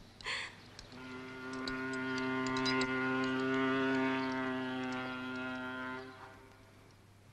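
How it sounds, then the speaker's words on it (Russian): A long, steady low horn blast with rich harmonics holds for about five seconds, loud and fairly close, then cuts off. "Это пароход гудит?"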